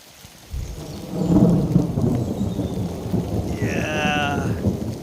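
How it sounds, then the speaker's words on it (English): Thunder rolls in during a storm at a wild campsite, a deep rumble building after half a second and sustained over steady rain on surfaces, with a brief tonal whistle near the end. "Listen to the thunder"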